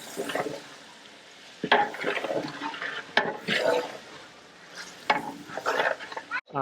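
Tomatoes and onions frying in a large pot for a wedding-style vegetable biryani and pulao, with steady sizzling broken by several loud scraping stirs and clanks of a ladle against the metal, close by, with no talk.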